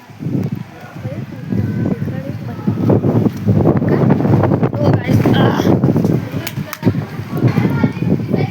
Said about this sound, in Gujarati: એટલો જોરથી પવન આવે છે